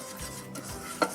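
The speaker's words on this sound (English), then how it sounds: "I just want to keep stirring it" A spoon scrapes and stirs a gingerbread mixture in a pan on the hob, with soft dragging strokes and a small clink near the end, close and fairly quiet.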